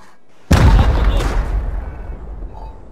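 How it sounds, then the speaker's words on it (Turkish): A rocket fired in a video game lands in one sudden, heavy explosion that booms loudly and then rumbles and decays over a couple of seconds. "Abi roket atıyorum."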